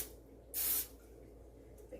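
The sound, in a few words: cooking spray sprayed on ice cream scooper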